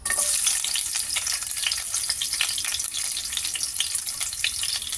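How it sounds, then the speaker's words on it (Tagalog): Potatoes and carrots sautéing in a pan for beef caldereta, a dense, steady crackling sizzle close up and fairly loud, with no talk over it. "unahin natin yung patatas at saka carrots. Igisa natin."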